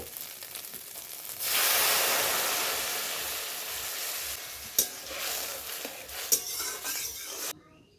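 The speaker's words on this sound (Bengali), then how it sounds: "এখন আমি একটু পরিমাণ মতো জল দেব।" Water is poured into a hot pan holding a fried egg while preparing Maggi noodles, setting off a loud, sustained sizzle that gradually fades, broken near the end by a couple of sharp clinks of utensil against the pan.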